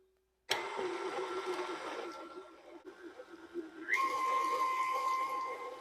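A kitchen mixer beats lemon cookie dough, starting abruptly with a steady whirring hum that climbs to a higher, brighter pitch partway through and keeps running.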